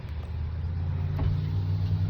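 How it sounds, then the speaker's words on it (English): A truck drives past outdoors, a low steady engine drone with a humming rumble that stays fairly even and moderately distant, no talking over it. "Truck making noise"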